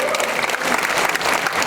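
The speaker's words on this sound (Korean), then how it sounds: "한번 실버팀을 위해서 박수 한번 해주시기 바랍니다" A church congregation applauds loudly at a Christmas service, a dense, continuous burst of clapping from many hands with a voice over it.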